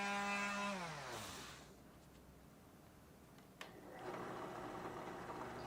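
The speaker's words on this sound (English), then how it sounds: "I'm going to come in with my random orbital sander and smooth that out quite a bit." A random orbital sander smoothing a wooden guitar body whirs and winds down, a quieter pause follows, then the motor starts up again with a steady buzzing hum.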